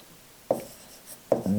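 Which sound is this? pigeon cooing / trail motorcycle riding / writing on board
writing on board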